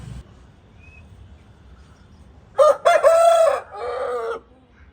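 A single rooster crows loudly and nearby, a clear drawn-out cock-a-doodle-doo that breaks a quiet background and fades away after.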